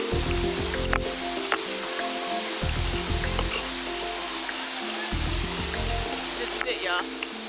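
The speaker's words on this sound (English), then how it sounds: "Finally made it to the waterfall after you have to hike so far." Steady broadband rush of a waterfall in a Yucatan rainforest, constant and fairly close, with a few faint thumps and low rumbles at times and people talking quietly beneath the water noise.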